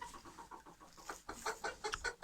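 Chickens cluck softly in short irregular bursts, fairly faint, with a steady background hiss of falling rain.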